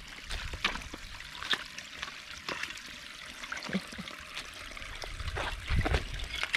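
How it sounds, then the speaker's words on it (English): A creek runs down a muddy hiking trail on the Buffalo River Trail, a soft, steady trickle and gurgle of shallow water close by, with scattered wet footsteps and splashes and no talking. "The trail is a creek that we are slipping and sliding down."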